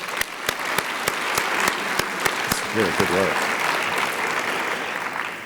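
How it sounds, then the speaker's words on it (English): A conference audience gives a panel a sustained round of applause, steady clapping with distinct hand claps throughout, while a voice speaks briefly over it. "I'd like to just begin by suggesting we offer the panel a round of applause"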